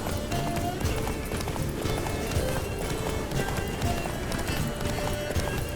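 A horse gallops in The Witcher 3: Wild Hunt (Blood and Wine), its steady rapid hoofbeats running throughout over a continuous backdrop of game ambience and wind.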